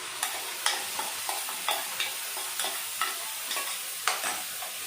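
Masala paste fries in a pan, a soft sizzle cut by regular scraping strokes of the spatula, each stroke a short distinct burst, quiet and close.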